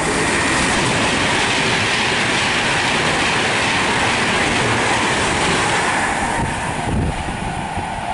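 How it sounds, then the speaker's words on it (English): A Virgin passenger train bound for London Euston from Blackpool North rushes through Nuneaton station on the West Coast Main Line, a loud, sustained roar of wheels and rails that eases slightly near the end. "passing through is a Virgin train service to London Euston from Blackpool North"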